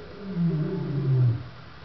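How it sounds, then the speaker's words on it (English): Lions in a pride at a lion park give a deep, rumbling roar lasting under two seconds, close and fairly loud, with no talk over it. "Listen to them roar."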